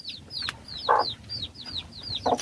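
A free-range hen with two chicks clucks in two short, close bursts, while the chicks keep up a steady run of high, rising peeps throughout.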